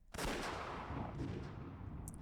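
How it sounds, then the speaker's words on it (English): A single sharp gunshot from the Umineko visual novel game, striking abruptly near the start and trailing off into a lingering, echoing rumble, with no talk over it. "The sudden sound of a gunshot shook me out of my half-sleeper trance."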